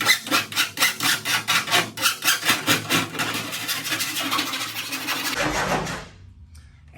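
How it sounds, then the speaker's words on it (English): A hand file rasping down a sharp, burred metal edge: a quick run of about a dozen even strokes, then a steadier scraping before it stops, close up with no talk. "we're just gonna go around and file this edge down so it's not so burry and so sharp"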